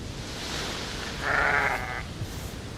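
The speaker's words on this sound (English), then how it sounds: "Man, I've got a lot of sheep." Sheep in the island-building game Aloft let out a single wavering bleat that rises above a dense, noisy game soundscape and lasts under a second.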